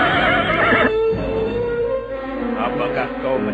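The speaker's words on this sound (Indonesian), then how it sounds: "mendadak terdengar derap kuda mendekat" A horse named Brahma Cikur gives a loud neighing whinny near the start, followed by softer hoofbeats and stirring as it approaches, with a voice speaking over the scene.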